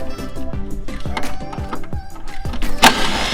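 An impact wrench working off a shock mount nut on a Ford Mustang, several short loud hammering bursts close up over about three seconds, with a sharp metallic clank near the end.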